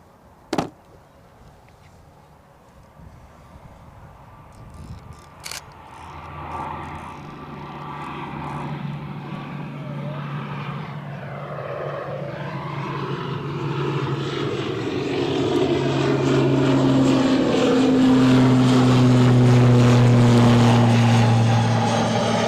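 A fixed-wing airliner takes off at Edinburgh Airport, its engine roar swelling from distant to loud and near over about twenty seconds. A falling whine sweeps downward midway, and a couple of faint knocks come early on.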